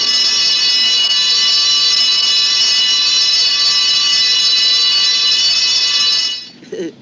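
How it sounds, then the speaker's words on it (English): A fire alarm bell rings continuously and loudly at close range with a steady metallic clangor, then cuts off abruptly near the end, leaving brief quiet with a faint voice. "And look, somebody left open the fire alarm."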